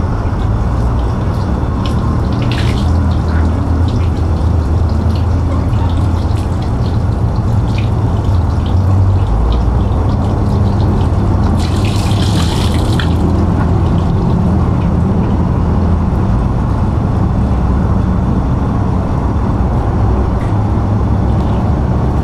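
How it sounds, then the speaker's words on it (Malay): Water running steadily into a container being filled to the brim before salt is added, a constant loud rushing with faint splashes and no speech. "tu kita isi air lah bagi penuh"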